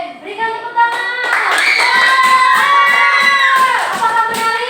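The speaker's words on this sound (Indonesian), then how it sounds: "Berikan tepuk tangan." Schoolchildren in an elementary classroom clap together in a steady rhythm while young voices shout and sing loudly over the claps throughout.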